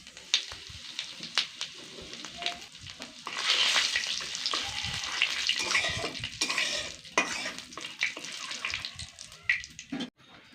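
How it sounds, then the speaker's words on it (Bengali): Cumin seeds and asafoetida hit hot oil as a tempering for a vegetarian cabbage curry, bursting into a loud crackling sizzle mid-clip among scattered clatters and spoon scrapes, then fading. "এবার এই তেলের মধ্যেই ফোড়ন হিসাবে দিয়ে দিব হাফ চামচ জিরে আর 1 চামচ হিং।"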